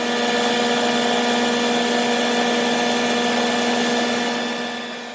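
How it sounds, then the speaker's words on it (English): A heavy-duty exhaust fan on a laser cutter, pulling away fumes from ABS plastic, roars as a loud, steady droning whine with a constant hum that tapers off slightly at the end; no one speaks. "The loud noise is the exhaust fan."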